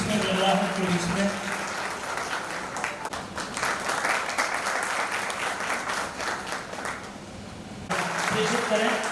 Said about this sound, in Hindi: तालियों की गूंज के बीच में